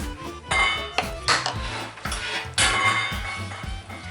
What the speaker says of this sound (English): give your beans a good rinse, and then in with those